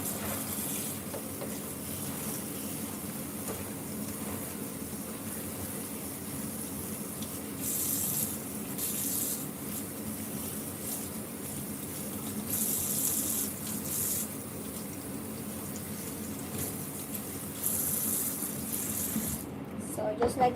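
Tap water pours steadily into a sink while a vegetable is rinsed under it, a close, continuous gushing flow with small surges and splashes that lasts throughout.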